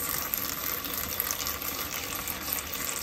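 Tap water gushes steadily into a sink while dyed wool is rinsed, a continuous close splashing flow with no talk.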